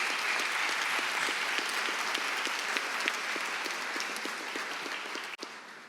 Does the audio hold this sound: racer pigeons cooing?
no